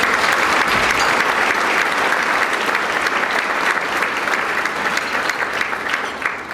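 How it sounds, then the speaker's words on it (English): An audience at a political dinner bursts into loud, sustained applause, thick clapping with a faint crowd murmur that stays strong throughout and tapers a little near the end. "let me ask for another round of applause for Veterans Day"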